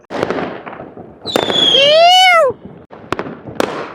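Firecrackers and fireworks go off at a New Year celebration in Kuwait. Sharp cracks and pops surround a long rising and falling whistle, with voices faintly in the mix.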